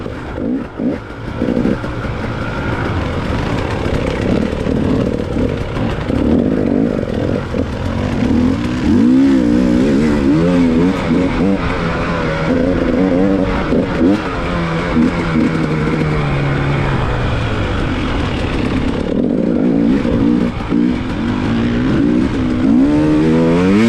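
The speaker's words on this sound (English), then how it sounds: "There's a little example of getting on the throttle and racing corner to corner and closing the distance between me and the bike in front of me" Dirt bike engine revving hard while racing corner to corner in a hare scramble, a loud close rasping drone that rises and falls with throttle changes throughout.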